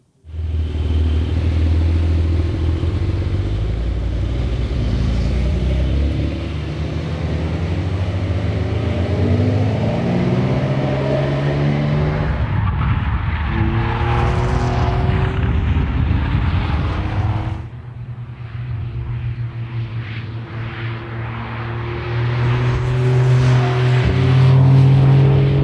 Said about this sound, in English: We start with the sport mode first, more exhaust sound